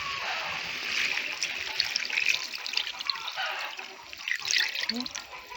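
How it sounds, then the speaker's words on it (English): Coconut milk pours into a cooking pot for Chicken Kelio, a steady liquid splashing and trickling throughout, close by and moderately loud. "And then now you add in your coconut milk"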